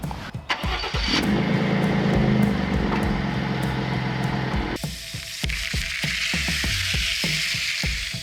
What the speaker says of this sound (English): you need to drive forward at least 1 or 2 rotations just to let this all kind of settle in